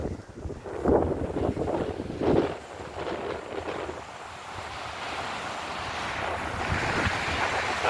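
Arabian Sea waves wash in and out on a beach under gusty wind buffeting the microphone, with a couple of louder surges near the start.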